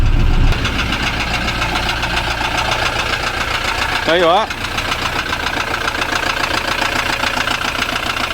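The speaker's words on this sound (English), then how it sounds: "I think it might be just the injector knock or diesel knock as they call it." A Ford Transit Mk7 diesel idles with a steady low rumble and a faint rhythmic injector knock running through it, close by, while a voice speaks briefly over the engine.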